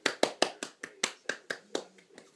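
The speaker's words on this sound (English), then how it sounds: "you deserve a huge clap." Hands clap about a dozen times in a quick, slightly uneven rhythm, each clap close, sharp and distinct, with nothing else heard between them.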